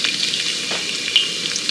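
Cumin seeds, finely chopped garlic and ginger sizzle steadily in hot ghee, a close, continuous bright frying hiss with a few small pops, and no talking.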